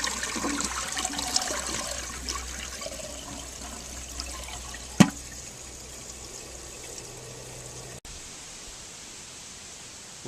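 A 1970 American Standard Cadet toilet flushes outdoors on a windy day, giving a steady rush of draining water with a sharp click partway through, then a quieter trickle as the flow settles.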